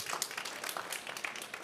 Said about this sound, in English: Give them all a round of applause, please.